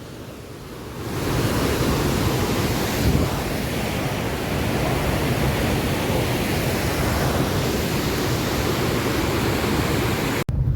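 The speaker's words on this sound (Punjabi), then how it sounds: "ਪਾਣੀ ਦੀ ਆਵਾਜ਼ ਸੁਣਿਓ" Steady, loud roar of a rushing mountain river in Kinnaur near Sangla Valley, filling the whole clip, a dense unbroken wash of noise with no voices.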